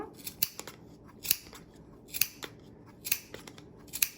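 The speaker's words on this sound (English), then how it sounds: "all you're going to do is you're going to snip" Sharp scissors snip through yarn wound on a pom pom maker, crisp cuts in irregular clusters of two or three, close and clear against a quiet background.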